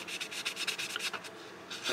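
Rapid back-and-forth rubbing of a Tamiya 1500-grit sponge sanding sheet on an aluminum plate edge of a 1/8 scale DeLorean model, a close, steady hiss of strokes in quick rhythm.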